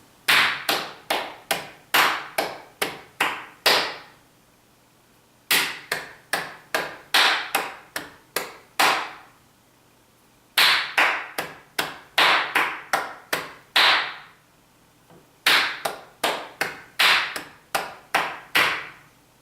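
Hands clap a quarter-note and whole-note rhythm pattern: three rounds of about eight quick, sharp, close claps, each round followed by a held pause, with no talk.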